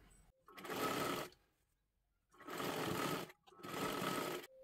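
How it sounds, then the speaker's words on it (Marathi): A sewing machine stitches a blouse in three steady running bursts separated by short pauses, close and clear with no talking. "मग वरच्या बाजूला आपल्याला शिलाई करत करत घ्यायचं आहे"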